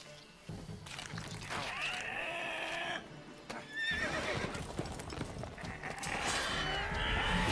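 A horse whinnies loudly over clopping hooves and a busy soundscape in The Witcher 3: Wild Hunt, with several neighs rising and falling across the scene.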